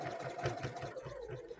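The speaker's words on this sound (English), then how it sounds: "From here we're going to keep sewing until we get to the top of the pocket." Sewing machine stitching fabric along a boxer shorts pocket, a rapid even mechanical whirring chatter, close but fairly quiet, running without a break.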